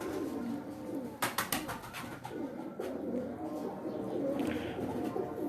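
House-bred breeder pigeons on a rooftop cooing, soft repeated coos close by with a burst of wing flutter and a few faint chirps around them.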